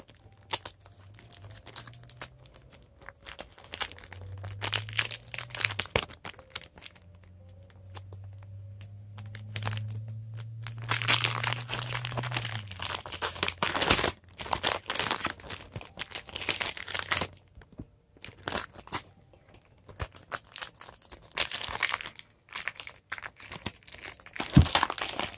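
Pokemon trading card packs being torn open, with close crinkling and ripping of foil wrappers in bursts over a low background hum.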